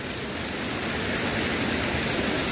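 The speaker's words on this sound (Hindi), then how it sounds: "तो झरना दिखाते हैं आपको" Constant broadband rushing of a mountain waterfall after rain, a steady dense roar without pauses, fairly close and alone.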